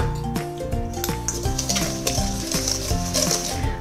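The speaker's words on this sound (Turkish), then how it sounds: "Ben tel bir çırpıcıyla bunu yapıyorum." A wire whisk beats eggs and granulated sugar with a pinch of salt in a bowl for a red velvet cake, giving a steady, brisk scraping rhythm partly buried under louder background music.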